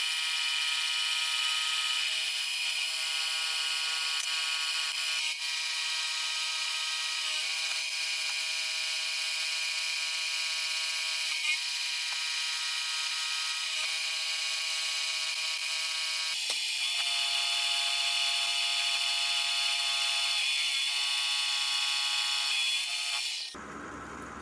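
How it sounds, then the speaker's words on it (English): A milling machine cuts a slot into vise soft jaws in a workshop, giving a loud, sustained high-pitched whine with steady cutting chatter that runs unbroken for over twenty seconds before stopping abruptly. "So I went ahead and machined in a slot in the soft jaws."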